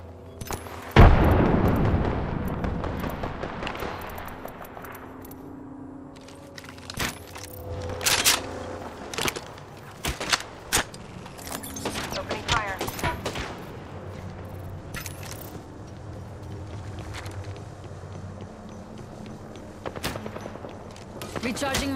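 Gunfire from a firefight in Apex Legends on PS5, with scattered single shots and short bursts cracking at varying distances over continuous game ambience, loudest early on and then sporadic sharp reports throughout.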